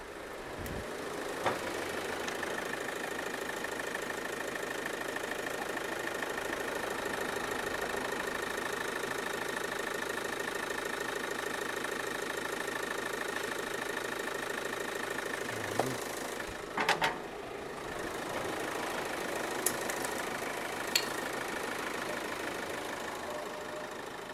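A Hyundai Santa Fe MD engine idles steadily and close up during a test run after an oil fill, with a constant low hum and a few brief knocks and clicks.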